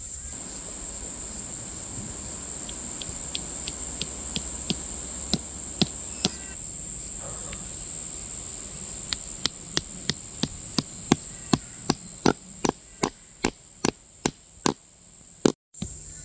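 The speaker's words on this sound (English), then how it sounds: "Work has begun, hammering in the back end." Sharp, repeated hammer strikes on tent stakes, sparse at first, then steady and quickening toward the end, over a constant high insect drone and soft wind.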